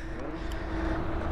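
An upgraded Razor MX650 electric pit bike running a 72-volt conversion in a drag race gives off a steady motor whine with road rush for a brief moment.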